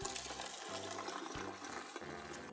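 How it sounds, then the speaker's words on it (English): Boiled zucchini cooking water poured off into a colander in a kitchen, a steady rushing gush of liquid draining close by, alone with no talk. "we're taking it off the boil and straining it into a colander. Just strain that water all away."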